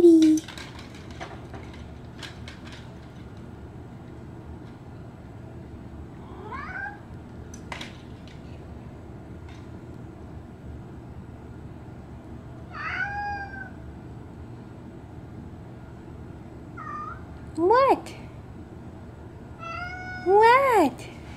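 A cat indoors meows at the rain: a handful of short, spaced meows, scattered early and growing louder and closer toward the end, over a quiet background.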